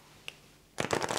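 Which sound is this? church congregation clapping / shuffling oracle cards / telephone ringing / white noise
shuffling oracle cards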